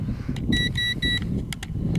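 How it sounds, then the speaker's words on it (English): A series of short, high electronic beeps from the RC transmitter of an XK A180 F22 Raptor model airplane, some in a quick triple burst and others as brief chirps, over a low background rumble. "Sorry for that beeping all the time."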